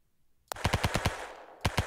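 Machine gun fire in the video game Ancient Warfare 3 starts abruptly as a rapid burst of about six sharp shots. After a short gap, two more shots follow. The gunfire is fairly close, with no talk.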